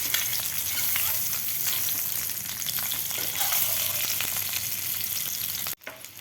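Eggs frying in a pan for a dhaba-style egg masala, a dense steady sizzle crackling close up for several seconds before cutting off abruptly near the end.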